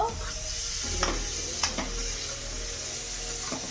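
Green chillies stirred into a hot frying pan with capsicum and marinated ingredients, a continuous sizzle broken by a few distinct spatula scrapes against the pan, close and moderately loud.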